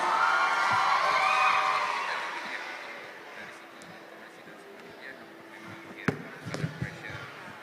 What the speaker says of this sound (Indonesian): dan malam hari ini juga tadi teriakan dari pendukungnya luar biasa ya